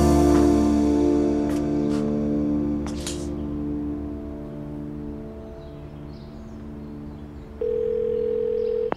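A steady electronic phone tone hums alongside low background noise, then a louder, higher continuous tone switches on near the end.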